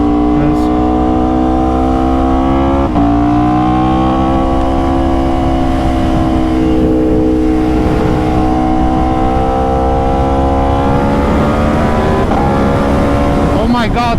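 Aprilia RSV4 sport motorcycle revving hard and close on a wet road, the engine note climbing in rising sweeps with sharp pops at each gear shift.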